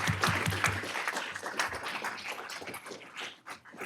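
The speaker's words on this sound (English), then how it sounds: "Big round of applause." An event audience gives a round of applause after a panel discussion, a dense burst of clapping that rises quickly and gradually thins out and fades over a few seconds.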